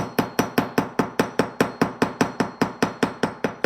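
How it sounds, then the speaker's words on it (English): Steady, evenly spaced hammer strikes on a metal square spiral, about five blows per second, sharp and close with short ringing decays, no voices. "So I'm going to hammer."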